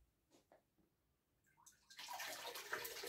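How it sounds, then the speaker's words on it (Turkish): Water is poured slowly into a saltwater reef aquarium, starting with a few faint drips and splashes before a steady, soft rushing trickle fills the second half of the clip. "Şimdi suyumuzu ekleyeceğiz. Yavaşça."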